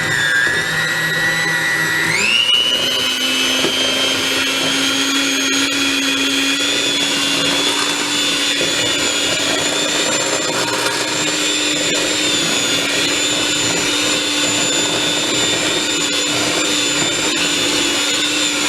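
A hand mixer creaming butter and brown sugar on low speed, a loud steady motor whine that shifts pitch briefly near the start and then holds an even drone throughout.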